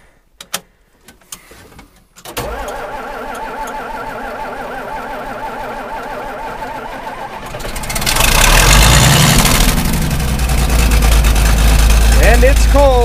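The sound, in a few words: engine idling after a cold start with ether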